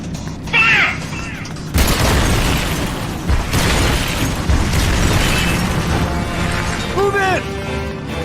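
Tank cannon blasts in the war game Metal Gear Solid: Peace Walker, heavy booming explosions rolling one after another, loud and close, with shouted voices and chirping calls mixed over the battle.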